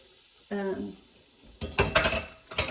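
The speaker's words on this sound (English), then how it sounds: "cheese sauce and stir that up." Cooked ramen noodles being stirred into cheese sauce, a few short clinks and wet scraping knocks of a utensil against a pot, following a brief voiced sound.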